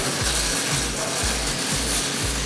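Arc welding as a bead is laid down, a loud continuous crackling sizzle with a faint regular pulsing, steady throughout and close to the torch.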